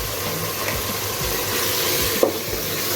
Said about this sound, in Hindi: 1 मिनट के लिए फिर भुनाई करती हूँ